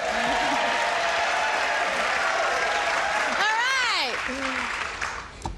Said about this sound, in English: I want to hear some nice cheering.